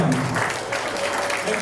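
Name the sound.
audience applause at taekwondo belt ceremony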